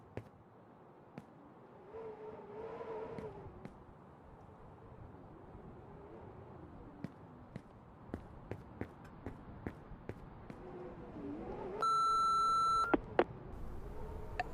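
A single electronic answering-machine beep rings out in the horror game Remothered, a steady tone lasting about a second, loud and clear above a low ambient drone scattered with faint clicks and footsteps.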